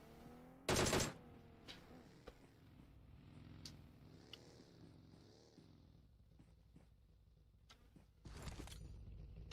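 Gunfire in a PUBG Mobile battle royale match, two short loud bursts of rapid shots, one early and one near the end, separated by faint scattered shots and movement noise.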